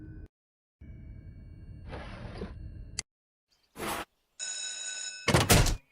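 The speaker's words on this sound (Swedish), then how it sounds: "Jaha, telefonen kallar." Electronic telephone ring tones in short bursts, separated by pauses and mixed with synthetic game effects, from the video game Upptäck rymden med Mulle Meck.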